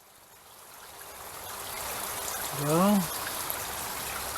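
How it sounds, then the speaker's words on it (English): Soft, steady trickling and rushing of water in a shallow creek runs throughout, with a short spoken word from a man partway through. "This is the widest part of the creek right here."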